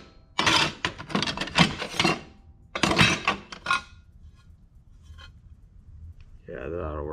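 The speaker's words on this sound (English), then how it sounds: "Well, I'm glad I bought this bandsaw." A bandsaw cuts through a metal plate in two loud rasping bursts, separated by a brief pause, followed by quieter handling noise and a low hum.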